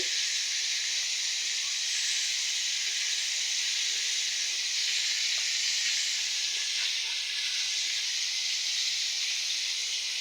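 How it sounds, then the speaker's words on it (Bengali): Fish fries in hot oil beside freshly fried greens, giving a steady, even hiss of sizzling that stays constant and fairly loud from start to finish, with no voices. "এদিক দিয়ে মাছটা ভেজে নিচ্ছি"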